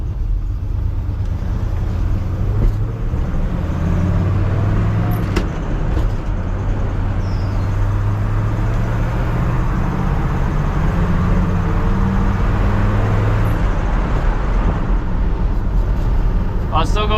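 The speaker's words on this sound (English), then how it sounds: "I hope the wind noise isn't super bad for you guys" Wind roaring past an old truck while driving, a loud constant rushing blended with a low engine drone, under someone talking throughout.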